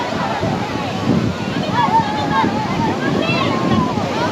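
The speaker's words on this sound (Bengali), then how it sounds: "কত উত্তাল সমুদ্র আর কি।" Rough, turbulent sea surf at Puri beach, a steady broadband roar of breaking waves with wind buffeting the microphone, while people talk over it throughout.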